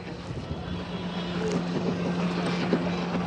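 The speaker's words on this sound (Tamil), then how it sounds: "பாருங்க. Speed boat" A speedboat crosses a lake at Ooty, its engine a steady, fairly close drone that holds even across the clip, with wind buffeting the microphone.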